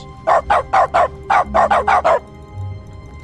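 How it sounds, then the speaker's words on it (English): A dog in the video game The Stanley Parable, triggered by a console command, lets out nine quick barks in a rapid burst, loud and close with no talking. "Now when I click, it barks."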